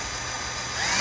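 Power drill boring out the post of a Hot Wheels die-cast toy car, a steady broadband whir that builds slightly louder toward the end of the short burst, close and alone.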